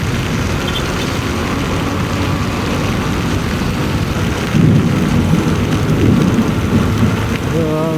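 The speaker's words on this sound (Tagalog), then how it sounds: "Ang lakas ng ulan." Heavy rain pours down steadily during a motorcycle ride in Batangas, with a low rumble of thunder swelling midway; loud and continuous, no voices.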